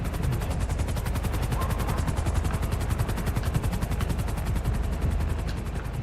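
A helicopter in GTA 5 thuds overhead with a fast, steady rotor chop, loud and continuous, filling the scene without any talk.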